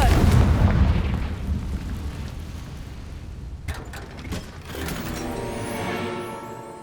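Hogwarts Legacy's Confringo fire spell goes off as a loud booming blast that rumbles and then fades into a crackling, hissing tail, followed by a softer swell of magical shimmer.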